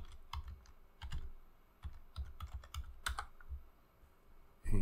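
A password is typed on a computer keyboard as a series of close, irregular key clicks in short bursts with brief pauses, ending with a louder thump.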